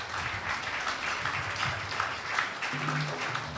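A church congregation applauds the musicians, a steady wash of clapping at moderate volume with a faint voice surfacing briefly near the end.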